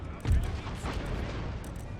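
Cannon and musket fire in the video game Empire: Total War, a heavy boom up front followed by a continuous rumbling crackle of distant volleys, with a voice talking over the battle.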